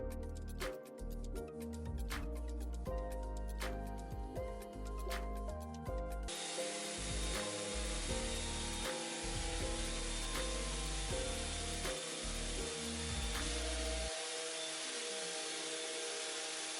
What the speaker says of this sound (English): A lot of sanding went into this build.